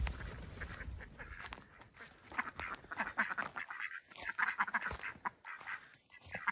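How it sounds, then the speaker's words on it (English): A group of garden ducks quacks repeatedly in a busy, overlapping chatter at moderate distance, with louder calls near the middle and end. "Hey, duck ducks."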